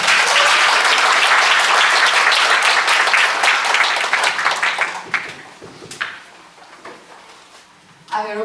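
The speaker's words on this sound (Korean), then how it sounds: "김신혜 목사님 나오실 때 크게 환영의 박수 부탁드리겠습니다" Warm audience applause at a church women's retreat welcoming a pastor to the stage, loud dense clapping that gradually thins into scattered claps and fades, followed by a brief voice at the end.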